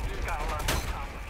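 Gunfire in Predator: Hunting Grounds, a short, dense rattle of rapid shots that sits close and loud within a continuous battle din.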